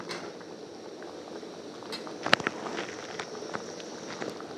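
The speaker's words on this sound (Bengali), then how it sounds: "চিকেনের ঝোলটা ফুটতে শুরু করে দিয়েছে" Chicken gravy bubbling in a pot makes a quiet, continuous simmer with soft popping bubbles and a few brief clinks and knocks of cookware nearby.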